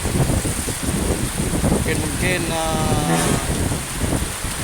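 Dense, heavy rain roaring with gusting wind during a flood in Aceh, loud and continuous, with a voice speaking briefly over the downpour.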